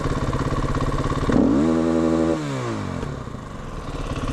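A sport bike engine idles with a steady throb, then gives one short, loud rev that rises and falls back to a rumbling idle, heard up close.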